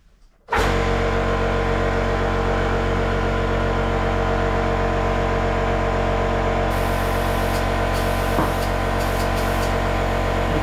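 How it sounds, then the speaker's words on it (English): Air compressor inflating a tubeless fatbike tyre, starting abruptly and running as a loud, steady hiss with a constant hum underneath, close and unbroken for about ten seconds. "I've got the luxury of a compressor"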